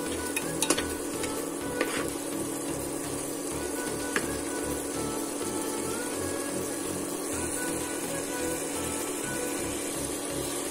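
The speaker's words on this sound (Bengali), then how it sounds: "মশলাটা আমি হালকা কষিয়ে নিব।" Spice paste sautéing in a pan for a watermelon rind curry, a steady low sizzle with a few sharp spoon taps near the start, close and continuous.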